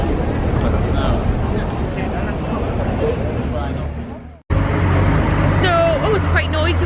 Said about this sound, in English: it's quite noisy with that bus